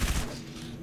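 Sniper gunfire in a video game, heard as one short loud burst with a booming report that quickly fades, over a low background hum.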